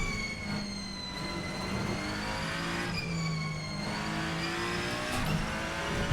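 Ferrari-based Ferrenzo P49 race car in Assetto Corsa, its engine revving hard under aggressive throttle, a steady high-pitched whine rising and falling through gear changes, loud and continuous with no talk.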